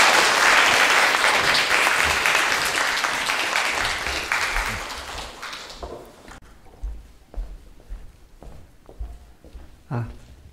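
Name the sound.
audience applause welcoming the speaker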